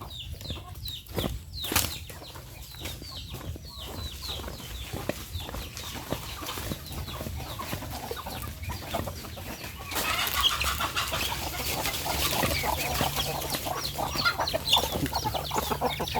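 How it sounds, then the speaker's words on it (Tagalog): Farm chickens clucking steadily, with scattered flapping wings and rustling; the flock grows louder and busier in the second half, a close, continuous chorus with no talking. "Ito, mga manok natin."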